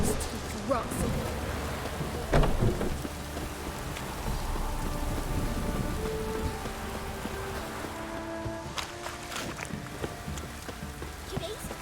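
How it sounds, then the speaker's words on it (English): Rainstorm in the video game The Witcher 3, a steady wash of rain pattering on surfaces with a few louder knocks and hits, layered with background game sounds and tonal music-like hums. "A storm, damn it. Cloud must have burst."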